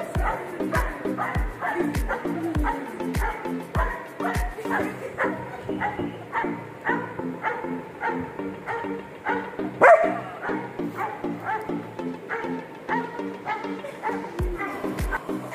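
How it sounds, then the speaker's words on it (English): German Shepherd puppy barking in repeated short, loud yips and barks at a steady quick rhythm, with whimpering tones between and one sharper louder bark near the middle. "Barking continues,"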